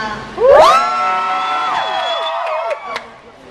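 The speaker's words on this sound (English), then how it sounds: "please give a round of applause" An audience at a K-pop show in LA featuring f(x) and miss A erupts into loud cheering and rising whoops, sustained for several seconds before gradually easing off.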